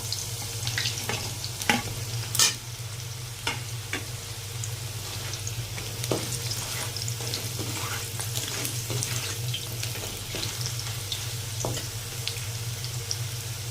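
Sliced raw green plantain re-fries in a pan, giving a steady close sizzle with a low hum beneath and scattered small pops and clinks throughout.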